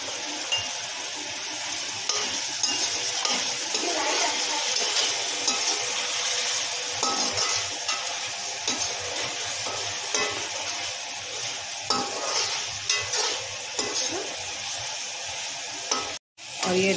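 Tomatoes with garam masala, coriander powder and red chilli powder sizzle steadily in a pan while a spoon stirs and scrapes through them, close and continuous, with a faint clink now and then and a brief pause near the end.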